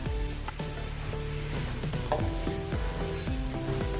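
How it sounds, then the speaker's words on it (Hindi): Chopped onions fry in a pan for sev bhaji, giving a steady close sizzle with occasional stirring knocks, while tuneful background music plays throughout. "इसको भूनेंगे प्याज को। जब तक अपने प्याज भून रहे हैं"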